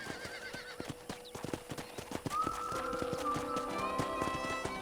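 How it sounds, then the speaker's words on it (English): Horse hooves clip-clop in a quick, steady rhythm in the game Red Dead Redemption on PS5, joined partway through by a whinny and a light tune in the background. "I picked out a fine horse for you."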